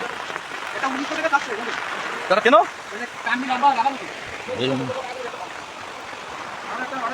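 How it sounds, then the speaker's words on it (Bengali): Heavy rain pours over rice fields in Bangladesh during a Kalbaishakhi spring storm, a dense, steady broadband hiss that runs through the whole clip while people talk over it. "প্রচুর বৃষ্টি শুরু হয়েছে"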